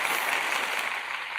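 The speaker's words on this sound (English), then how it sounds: "Where's my applause?" Brief burst of applause with a bright, dense patter of clapping, steady and fairly close, with no voices over it.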